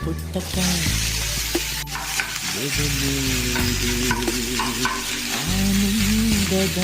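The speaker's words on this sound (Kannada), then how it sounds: "ಬೆಳ್ಳುಳ್ಳಿ ರೋಸ್ಟ್ ಆಗಿದೆ, ಇವಾಗ ರೈಸ್ ಆಡ್ ಮಾಡ್ಕೊಳ್ಳೋಣ." Cooked rice sizzles loudly in a frying pan with roasted garlic, stirred continuously with scraping spatula strokes over a steady hiss, close and alone without talk.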